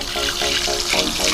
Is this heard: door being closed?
no